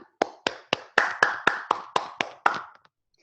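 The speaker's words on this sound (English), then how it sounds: "And then giving yourself a clap" One person claps hands ten times in a slow, even rhythm at the end of a mindfulness session, each clap crisp and close, with no talking.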